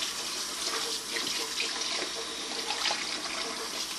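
Strawberries swirled in a colander under cold running water, a steady close splashing and trickling rush with no one talking.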